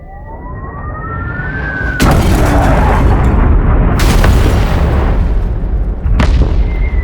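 Artillery barrage explosions setting grass on fire: three loud, heavy blasts at intervals, each a sudden broadband burst, with a rising siren-like whine before the first.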